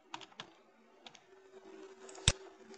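Computer keyboard typing: a few scattered keystrokes, then a steadier run of light clicks ending in one sharp, louder tap, close and alone with no talk.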